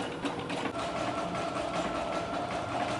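A sewing machine runs steadily while stitching a French seam on a summer top, with a continuous close whirring hum and no talk for about three seconds.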